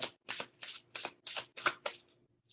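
A deck of cards is shuffled by hand in quick, crisp riffling bursts, about eight short rasps in a steady rhythm, close and fairly quiet with no talking.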